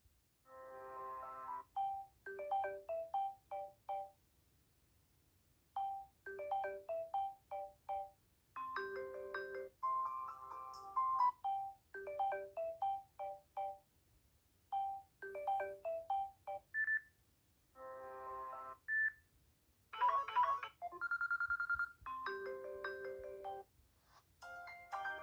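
A Samsung J5 SM-J500FN phone plays a melodic electronic ringtone, repeating short tonal phrases with brief gaps, clear and alone with no talking.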